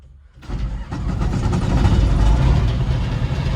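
A crop crusher's engine starts inside the cab, cranking briefly then catching into a loud, steady diesel rumble that settles into a rough idle, close and alone without talk.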